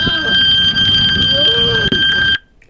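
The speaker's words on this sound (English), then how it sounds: "It might be a fire alarm of some sort." A fire alarm sounds outside a building during a police incident, a loud continuous high electronic tone with people talking over it, cutting off abruptly near the end.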